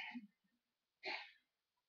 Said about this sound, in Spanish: ay, perdón, voy a estornudar.